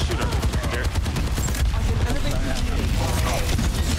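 Rapid gunfire from an Overwatch 2 match, dense bursts of shots running continuously and loud throughout, with voices talking over the action.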